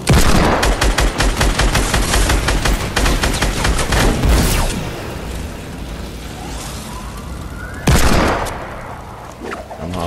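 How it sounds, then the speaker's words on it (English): Gunfire in Fortnite, a dense, rapid volley of loud shots that thins out and fades, then one more sharp burst near the end, with the shooting close and harsh. "Oh, I heard Deagle right down here."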